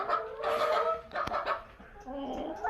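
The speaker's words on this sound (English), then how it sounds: "We got all the chickens in here." Chickens in a coop cluck and chatter close by in a steady run of busy calls with short pauses.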